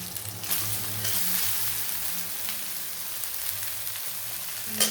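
Cooked rice tossed and stirred in a hot pan, giving a steady, even sizzle of frying with faint scraping from the stirring, close and continuous with no voices.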